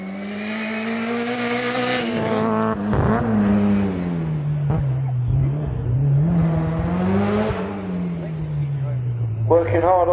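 A Mini race car at the Tregrehan hill climb powers through a hairpin, its engine note rising and falling as it revs and backs off, heard at moderate distance under a commentator's voice.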